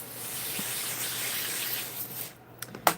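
Spray bottle misting the enclosure of hissing cockroaches, a close continuous hiss of spray that tapers off, followed by a few soft clicks and taps.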